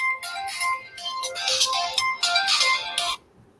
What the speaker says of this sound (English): an unexpected phone call is ringing